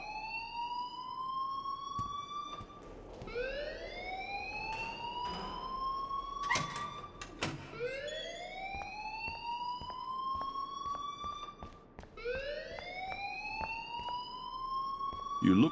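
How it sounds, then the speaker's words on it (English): A rising, wailing electronic alarm sounds in the Life is Strange game, sweeping upward in repeated cycles every few seconds, fairly clear, with brief clanks in between. "please turn off that alarm since that's your job"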